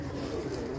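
Pigeons bred in Sialkot cooing on a Karachi rooftop, a brief soft burble close by against steady background noise.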